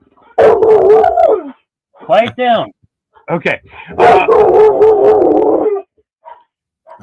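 A dog barks and howls in long wavering bursts, loud and close, while a person speaks briefly to hush it between the outbursts.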